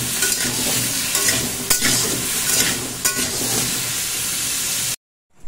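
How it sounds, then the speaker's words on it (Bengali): Pumpkin, carrot and potato pieces frying in oil with salt and turmeric, a loud continuous sizzle with occasional scraping stirs, cutting off abruptly near the end. "হলুদ দিয়ে একটু ভেজে নেব।"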